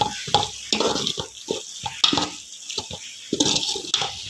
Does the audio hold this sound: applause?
no